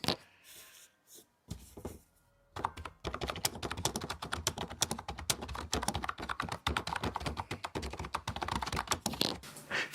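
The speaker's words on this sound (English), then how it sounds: "They are designed to produce a much quieter typing experience, as you can hear now." Fast, steady typing on the low-profile chocolate keys of a Genius Slimstar 8230 wireless keyboard, with quiet scissor-switch clicks that fall into a continuous patter after a few hesitant taps at the start.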